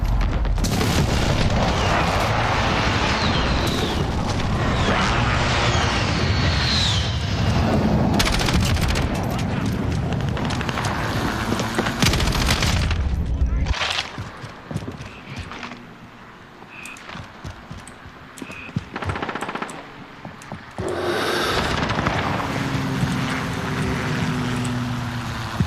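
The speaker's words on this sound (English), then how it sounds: "Airstrike, get down." Airstrike explosions rumble through a Call of Duty Modern Warfare hardcore match, a dense barrage of booms and gunfire for over ten seconds, then scattered blasts and shots before the din swells again.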